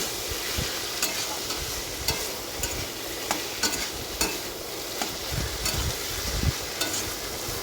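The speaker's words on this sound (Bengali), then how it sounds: "মাছটা দেওয়ার পর আবার একটু ভেজে দেবো" Fish being fried in a pan of village-style vegetable chorchori, with a steady close sizzle and the scrape of a spatula stirring at irregular intervals.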